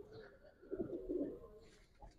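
Flower-patterned fancy pigeons, short-beaked with red noses, coo in a loft; a soft burst of low cooing swells in the middle and trails off, with a brief call near the end.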